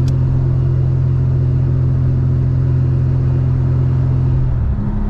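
A turbocharged 3800 V6 in a Camaro, running rich, idles loud and close with a deep, steady, throbbing rumble that roughens and dips near the end, with no talk.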